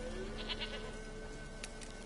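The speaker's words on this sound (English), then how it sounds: "Here, goat." A goat bleats in a drawn-out, wavering call with faint background hum, heard alone without talking.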